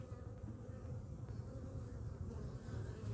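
Honeybees return to a split hive carrying yellow corn pollen, a faint, steady, low buzzing hum of many insects close by with no other sounds.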